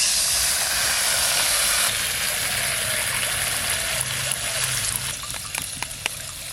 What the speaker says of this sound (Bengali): এবার নারকেল বাটার জলটা দিয়ে দেবো,